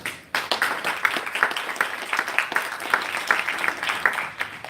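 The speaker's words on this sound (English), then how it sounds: "Give them a round of applause." Applause from an audience for a panel of speakers, a steady patter of many hands clapping at moderate volume, with irregular sharper claps standing out throughout.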